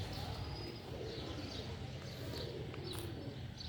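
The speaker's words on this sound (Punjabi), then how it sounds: "ਜੋੜਾ ਵੇਖਣਾ ਪਿਓਰ ਸ਼ੇਹਾਂ ਵਾਲੇ ਕਾਲੇ ਮੂੰਹ ਵਾਲੇ ਕਬੂਤਰ" Pure Sialkoti black-faced pigeons coo faintly at a distance beneath a steady hiss of background noise, soft low calls recurring in short bursts with a few high chirps.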